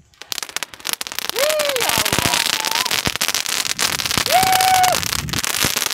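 Sivakasi fancy Diwali firecrackers burst outdoors in a dense, continuous crackle of pops and bangs, with whistling rising tones cutting through twice; loud and close, with voices talking over the noise.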